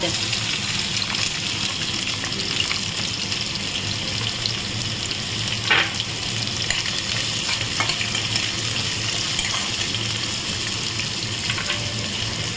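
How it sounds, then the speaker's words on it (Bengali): Onions fry steadily in hot oil with cardamom, cloves, cinnamon and bay leaf, a continuous dense sizzle with faint scrapes and clicks throughout, close and even, no talk. "এবারে আমি পেঁয়াজটা দিয়ে দেবো"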